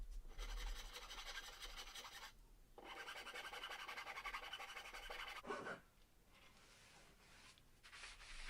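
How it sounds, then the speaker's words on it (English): A metal file rasps back and forth, smoothing the grooves of a homemade wire stripper, quiet close steady scraping strokes in long runs with short pauses. "And then finished off the grooves with a file."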